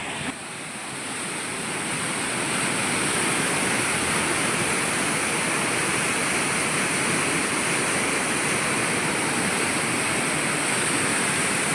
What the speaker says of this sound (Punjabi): ਉੱਥੇ ਦੇਖੋ ਪਾਣੀ ਦੀਆਂ ਛੱਲਾਂ